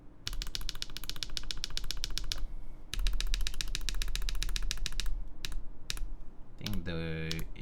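Fast, steady typing on a wireless QK Alice Duo mechanical keyboard with RGB lighting, a close run of crisp clacking keystrokes that pauses briefly midway and then continues, ending with a short burst of other noise.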